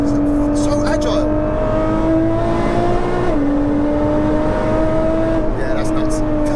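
An 820bhp hybrid turbo Nissan GTR under steady acceleration, its loud engine drone climbing in pitch and shifting gear once midway, with people talking over the cabin noise.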